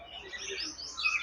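In a cartoon story, an old sparrow twitters in a quick run of bright, high chirps, close and moderately loud, growing busier toward the end.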